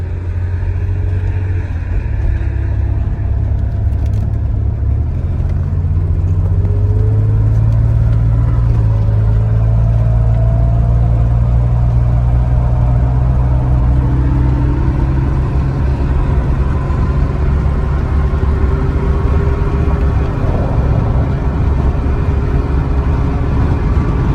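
A car driven out for a spin, its engine rumbling steadily and loud throughout, with gentle rises in pitch as it accelerates and road noise underneath, no talk.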